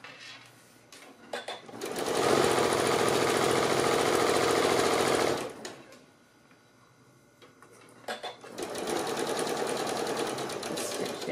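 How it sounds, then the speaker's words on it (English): A sewing machine stitching fabric ties for a three-layer pleated face mask, two long steady runs of fast rhythmic whirring separated by a pause with a few short clicks, close and loud. "Just stitch down to your end and then back tack."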